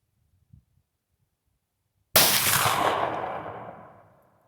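A Henry Brass 45-70 side gate rifle fires a single loud, close shot outdoors, a sharp blast followed by a long rolling echo that fades over about two seconds after a quiet lead-in.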